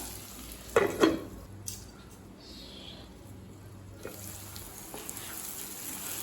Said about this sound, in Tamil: இப்போ மூடி போட்டு கத்திரிக்காய் வேகிற வரைக்கும் வெயிட் பண்ணலாம்